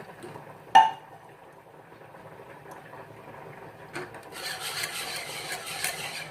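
A spoon stirs boiled milk mixed with cream, opening with a single sharp clink and then giving soft, faint scraping swirls that grow a bit louder toward the end.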